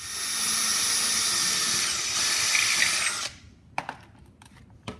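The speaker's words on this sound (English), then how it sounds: "We'll drill those through." A power drill whines steadily as it bores through a car heat shield, then cuts out, leaving a few sharp metallic taps and clicks close by.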